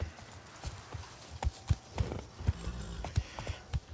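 Roach the horse from The Witcher 3: Wild Hunt, Blood and Wine, trots with steady clip-clopping hooves. The hoofbeats fall in an even rhythm of sharp, close, fairly loud knocks over a low ambient bed.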